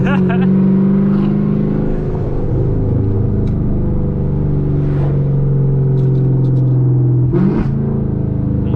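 Camaro ZL1 V8 engine droning loud and steady from inside the car during a night drive, with revs rising and falling and a sharp crack on a downshift late in the clip.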